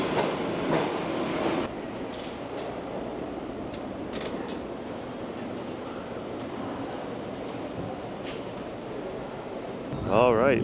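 A New York subway train rumbles through Brooklyn Bridge City Hall station with a steady roar and screeching squeals near the start, and brief high whines and creaks from the platform stand out above it.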